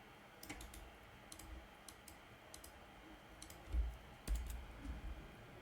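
Faint computer keyboard keystrokes and clicks sound in small scattered clusters, close but very quiet over a low room hiss.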